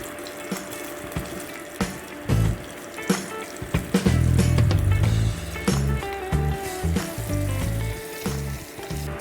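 Stuffed ivy gourd sizzling in a pan with mustard seeds and curry leaves, a steady frying hiss broken by scraping, clinking stirs and a louder bubbling burst partway through.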